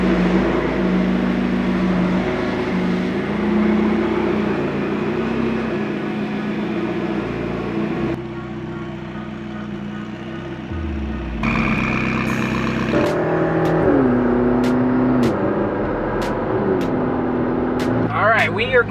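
A McLaren engine revs in track mode with the intake sound generator turned all the way up, giving a loud, sustained drone that drops off midway, then returns with sharp rev changes and blow-off-like bursts while a person talks over it.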